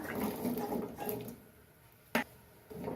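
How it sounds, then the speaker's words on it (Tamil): Water churns and bubbles in a pot, with a brief splash as tapioca chunks drop in partway through, then the bubbling carries on. "தண்ணி கொதிக்குது கிழங்கு கொட்டிக்கலாம்"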